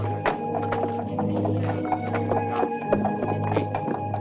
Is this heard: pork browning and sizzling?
no